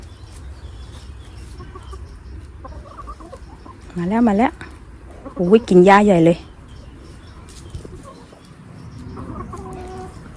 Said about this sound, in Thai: ดูไก่เขามีความสุขมากเลย